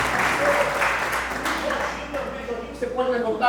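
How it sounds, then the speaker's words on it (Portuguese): Church congregation applauding during a thanksgiving service, a steady wash of clapping that fills the room throughout, with voices talking over it. "Uma salva de palmas para o Senhor"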